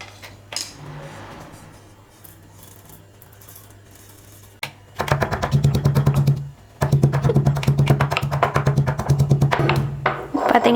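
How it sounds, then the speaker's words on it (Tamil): Dry-roasted spices are pounded in a stone mortar: a couple of scattered knocks at first, then fast, rhythmic hard thuds close by in two sustained bursts, with a short pause between them. "இப்போ இதை ஒரு இடி உரலில் சேர்த்துட்டு நல்லா இடிச்சுக்கலாம்."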